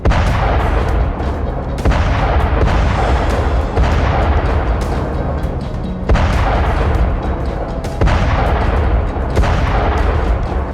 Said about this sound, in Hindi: बेहिसाब बारूद उगलने वाला महाविध्वंसक घातक टैंक अब्राम्स।